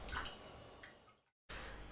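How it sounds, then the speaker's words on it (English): Red shiso-shu, a perilla and vodka liqueur, pours into bottles: soft trickling and dripping of liquid, faint and close, cut by a brief silence before resuming. "pour the shiso-shu into your bottles and put them in your fridge to chill"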